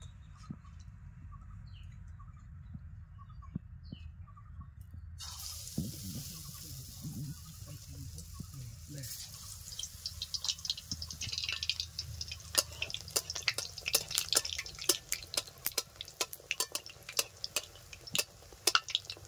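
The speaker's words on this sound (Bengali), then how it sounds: "আস্তে আস্তে বেগুনগুলো ভেজে নিচ্ছি" Eggplant fritters (beguni) frying in hot oil at medium heat, a steady close crackle and sizzle that picks up sharply after a few seconds, with dense popping bursts building toward the end.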